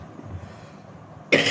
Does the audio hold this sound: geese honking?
no